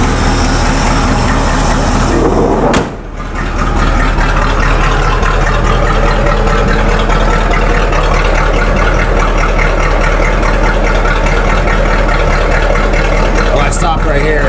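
A 1985 Chevy truck idles steadily after a carburetor adjustment, its exhaust dumping from a wide pipe under the cab, with a low continuous rumble, one brief dip early on, and someone speaking over it.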